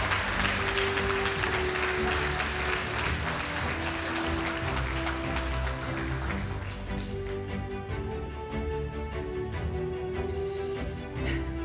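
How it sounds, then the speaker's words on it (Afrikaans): Applause from an audience at a Grade 12 awards ceremony as a student receives science trophies, a broad wash of clapping that thins into more distinct individual claps while music plays underneath. "Kom ons gee vir haar 'n lekker hande klap."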